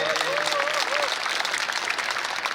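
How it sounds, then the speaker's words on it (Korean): Audience applause at a 2020 political talk show with a Korean lawmaker, a steady wash of clapping at even loudness throughout, with a faint voice briefly audible early on. "박수 한번 부탁드립니다."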